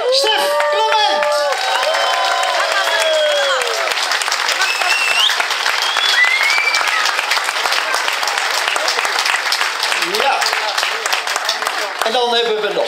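Crowd applause at a Dutch national cycling time trial championship, dense sustained clapping mixed with cheers, whoops and children shouting, with a voice over a loudspeaker near the start.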